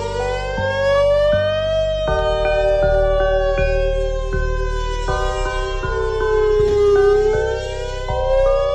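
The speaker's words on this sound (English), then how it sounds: "Damn warning siren." A loud warning siren wails close by. Its tone steps and warbles in a rhythmic pattern over a low pulsing drone, and no other sound competes with it.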